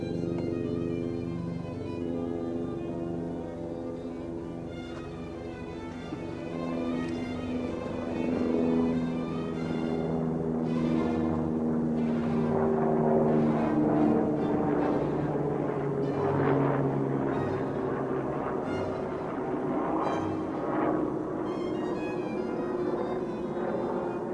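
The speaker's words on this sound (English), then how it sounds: "Must be the helicopters in the background" Steady low helicopter engine drone with a rotor-like rumble hanging in the distance throughout, heard from Scout Lookout at Angels Landing, Zion National Park, Utah, no voices, the noise swelling slightly partway through.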